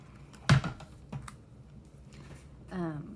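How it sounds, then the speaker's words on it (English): An ATG adhesive tape gun runs tape onto cardstock with a few sharp, close clicks and a brief rattling pull, with a short bit of voice near the end. "I'm using my ATG gun."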